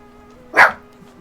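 A single short dog bark rings out close by against a quiet background.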